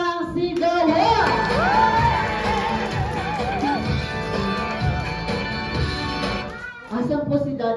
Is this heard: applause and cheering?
yes